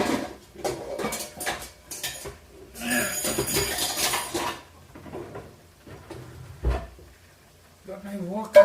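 A wok is pulled from a kitchen cupboard amid clattering metal pans and cookware, with bursts of clanking and knocking alongside a talking voice, ending in a sharper bang.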